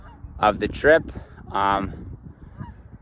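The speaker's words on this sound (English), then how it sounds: "lots of vocal Canadian geese, like the ones that are flying overhead right now" Canada geese flying overhead give several loud honking calls in short bursts, close and clear above open water near a paddle board launch spot, with a person speaking briefly between the calls.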